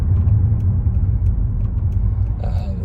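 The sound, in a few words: 2001 Mercedes E55 AMG engine while driving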